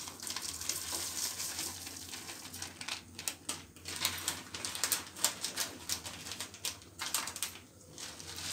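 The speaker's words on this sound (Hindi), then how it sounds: "नारियल को हम भून लेते हैं।" Grated coconut dry-roasting in a pan over a low gas flame for nariyal khoya panjiri, giving a steady close crackle with busy clicking and scraping from stirring, no voices.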